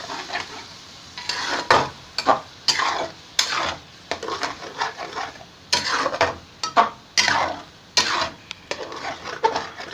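Spice masala fries in a pan while a spatula stirs and scrapes it in quick, rhythmic strokes, with clattering metal and a steady sizzle underneath, close and clear.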